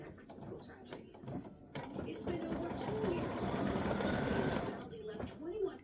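Sewing machine making a short stitch in black thread on a Thanksgiving turkey tic-tac-toe board: a steady close-up mechanical whir that builds and holds for a few seconds before easing off.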